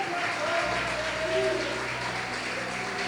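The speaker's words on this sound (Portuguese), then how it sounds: "Se o seu aplauso é para Jesus" A church congregation applauds steadily throughout, a dense wash of clapping with some voices mixed in beneath it.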